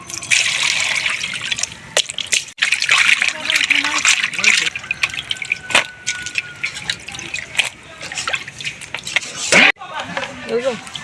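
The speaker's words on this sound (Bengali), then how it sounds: "মাছগুলো সুন্দরভাবে ধুয়ে নিছি" Water running and splashing while pieces of rohu fish are washed, with uneven trickling and sloshing bursts and a few sharp knocks, close by.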